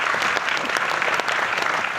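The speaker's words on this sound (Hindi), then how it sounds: "एक बार आपके लिए ताली बजवा दे।" A seminar audience in Delhi applauds at an RCM event, a dense and continuous burst of clapping that stays steady throughout.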